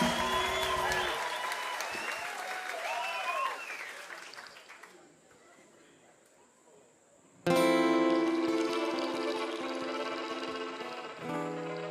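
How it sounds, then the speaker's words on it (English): Audience applause at a band competition grand final is mixed with loud music, then a quieter lull before the music and clapping surge back in strongly. "Give a massive round of applause to Nessie's Besties"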